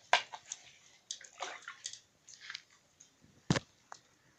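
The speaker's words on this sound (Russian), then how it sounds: "Вот я поливаю водой." Water poured from a container onto freshly planted basil seedlings in a greenhouse with tomatoes, short sloshing splashes and trickles in several bursts, close and fairly quiet, ending with a sharper splash.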